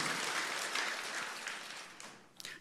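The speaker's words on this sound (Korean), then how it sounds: "우리 하나님께 한번 감사의 박수 올려드리십시다" A congregation claps together during a Sunday worship service at Ilsan Chungshin Church. The applause is a soft, continuous patter heard from a distance, thinning out toward the end.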